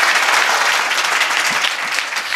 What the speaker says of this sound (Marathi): टाळी वाजवायले राव.